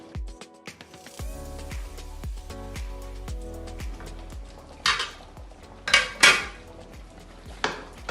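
Tagliatelle is stirred in a metal pot, with repeated sharp clinks of a utensil against the side in an uneven rhythm, close up, and a few louder scraping knocks toward the end.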